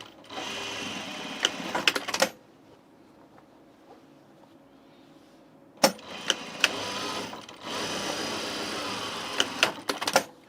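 A sewing machine stitches the side seams of an unlined blazer in two fast, whirring bursts, with a quiet pause between them and small clicks and thumps at the starts and stops.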